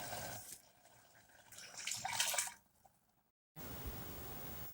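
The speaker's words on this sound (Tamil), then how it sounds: "தண்ணி மீடியமாக ஊற்றிக்கணும்" Water splashes and runs into a cooking pot of mutton for a couple of seconds, then a short silence before a steady rushing pour resumes, fairly close.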